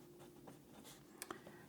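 Pen or pencil writing by hand on paper, a short run of faint scratchy strokes with a couple of small taps near the end, close and quiet with no talk.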